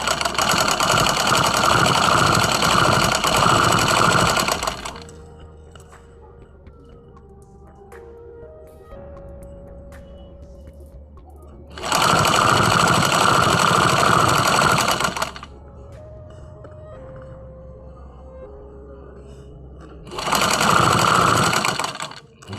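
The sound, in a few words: sewing machine stitching the bottom hem of a sleeve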